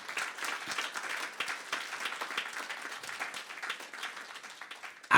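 A church congregation at a worship service claps together to acclaim the Lord, producing dense, steady applause that lasts several seconds with no voices over it.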